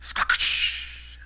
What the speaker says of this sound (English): The refreshing sound of cracking open a cold one.